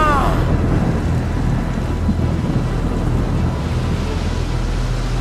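A storm at sea with heavy rain and rumbling thunder fills the scene as a loud, dense, continuous roar with no distinct breaks and no voices.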